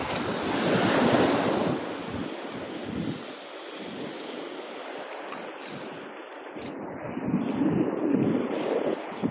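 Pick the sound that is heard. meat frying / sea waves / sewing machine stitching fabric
sea waves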